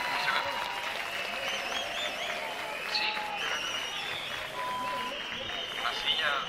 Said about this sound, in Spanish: ¡Fuerte el aplauso para ese set!